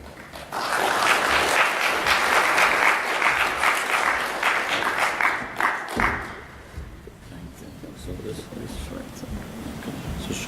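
An audience at a plenary session on electricity access breaks into loud, sustained applause to welcome a speaker, swelling quickly and then thinning out into scattered claps and murmuring.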